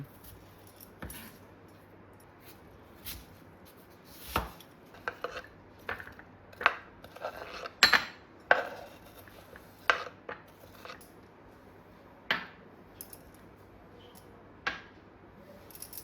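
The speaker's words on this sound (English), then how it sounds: "Start by cutting the apple into small pieces and transfer them into a bowl." A knife cutting an apple into small pieces on a board in a home kitchen, giving scattered light taps and clicks at an irregular pace, close and fairly quiet, with no talking.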